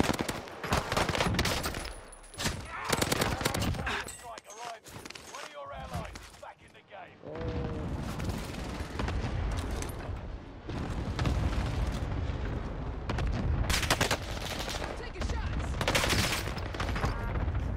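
Rapid automatic gunfire in Call of Duty: Warzone on Rebirth Island, sustained loud bursts with a short lull in the middle, while players talk excitedly over it.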